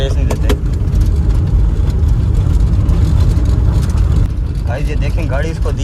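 A car engine hums steadily at low revs while a learner drives, with people talking over it in the cabin throughout.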